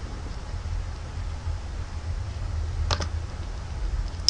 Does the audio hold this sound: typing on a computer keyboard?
yes